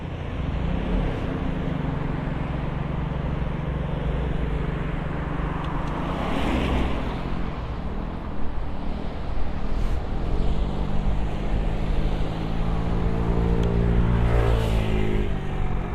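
Road traffic idles and moves at a traffic light, a loud continuous rumble of engines with vehicles passing and accelerating nearby.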